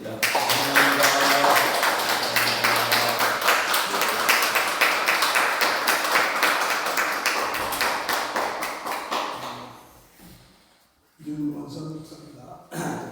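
A church congregation at a Korean service claps loudly and steadily for a visiting pastor; the applause dies away, then someone speaks briefly.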